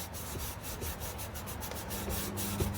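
A cast iron Dutch oven scrubbed with a dirty scrubber pad, steady rhythmic rasping strokes close up and fairly loud, continuous without speech.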